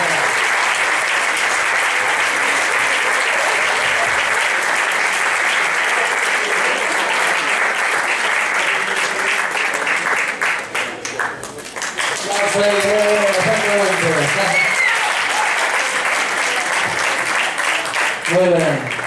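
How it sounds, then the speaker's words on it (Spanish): Loud, sustained audience applause for a music group taking the stage at a live event, filling most of the clip with dense clapping and crowd noise, with a brief dip near the middle and voices calling out toward the end. "Fuerte aplauso para este grupo."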